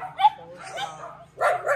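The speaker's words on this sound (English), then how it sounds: "the most important part of the tour. The barking dogs." Dogs bark in a backyard garden, a couple of sharp close barks with yips and a whimpering whine between them, no talk over them.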